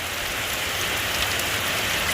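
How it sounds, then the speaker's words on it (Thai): Steady rain falls across a backyard in Trat, Thailand, at the start of the rainy season, a continuous broadband hiss of drops on surfaces filling the whole stretch with no voices. "เห็นไหมครับโอ้โห ฝนตกครับ บรรยากาศดีฮะ"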